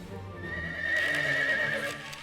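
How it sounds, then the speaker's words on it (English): Horses from the visual novel game Witch on the Holy Night neigh in a bright drawn-out whinny over rhythmic clip-clopping hooves, rising to a peak in the middle and fading slightly, with no talking. "oh, big horses!"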